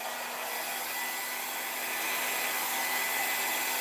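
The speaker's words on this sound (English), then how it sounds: "I'm going to put the blow dryer on low" A blow dryer running on its low setting, used during a paint pouring class, gives a steady close whooshing hum that stays constant throughout, rising slightly in level toward the end, with no talking.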